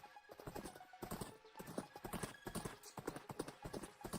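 Horse hooves clip-clop at a quick, steady pace along a road in Wynncraft, a continuous rhythmic patter of close, moderately loud hoofbeats with no pauses.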